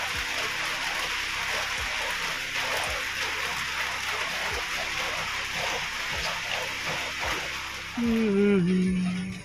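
Steady rain hisses and patters continuously, then a voice begins speaking near the end as the rain carries on underneath.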